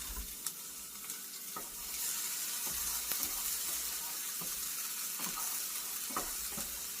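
Florida shrimp pie filling is stirred in a hot pan, with a steady sizzle beneath scattered scraping and clinking of the spoon against the pan, close and even throughout.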